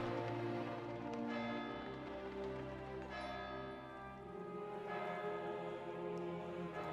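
Church bells toll in the video game Kingdom Come Deliverance II, resonant strikes with long ringing decay, a few spaced hits overlapping, fairly faint and alone.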